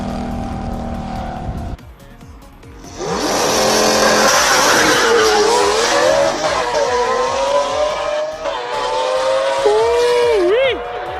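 A Lamborghini Aventador roars past uphill at full throttle during a hill-climb race, engine pitch climbing and dropping through gear changes, loud and close, with crowd noise and voices underneath.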